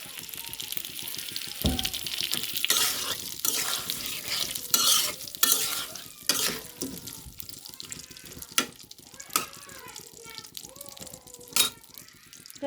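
Mustard oil stirred into a homemade pickle, giving soft, irregular scraping and wet mixing sounds with occasional sharper knocks, close and moderately loud, with no talking.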